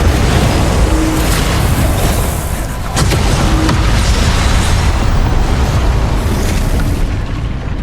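Incendio fire spell cast in the Hogwarts Legacy video game, a loud, dense roaring blast of flame that fills the whole stretch, with a few sharper bursts inside it and no talk.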